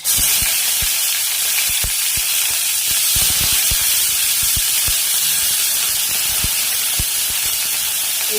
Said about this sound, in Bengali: ফোড়নটা আমার রেডি হয়ে গেছে, এখন দিয়ে দিচ্ছি পেঁয়াজ।